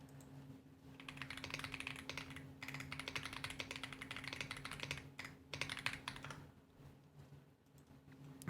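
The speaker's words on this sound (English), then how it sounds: "That was me typing my response saying that I was finding old chats" Steady typing on a computer keyboard, a quick run of light clicks and clacks with a few short pauses, close and fairly quiet over a low background hum, no voices.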